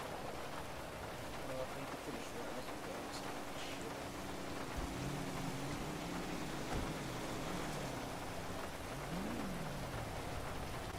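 Heavy rain pours down steadily, drumming on a surface nearby, with a low engine-like hum and faint tonal whines underneath.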